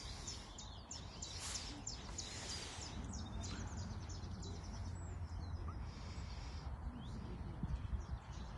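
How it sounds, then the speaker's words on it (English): Chaffinch and blue tit song near water: faint high chirps and trills scattered over a steady wash of background noise, birds at a moderate distance throughout. "listen out for sounds of the chaffinch and blue tit"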